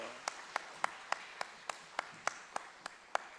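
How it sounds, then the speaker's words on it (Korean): Church congregation clapping for the choir in slow, evenly spaced single claps, about three per second, crisp and fairly close over a quiet room. "이제는 찬양대를 위해서 박수 한번 해주시죠"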